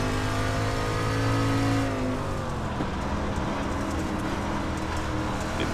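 A street stock race car in the iRacing sim at USA International Speedway roars loudly and continuously, the engine note rising under throttle, then dropping and settling into a steady harsh drone.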